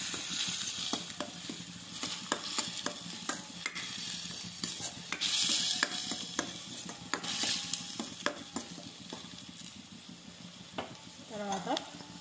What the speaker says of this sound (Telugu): ఆనియన్ పేస్ట్ ఎంత బాగా ఫ్రై అయిందండి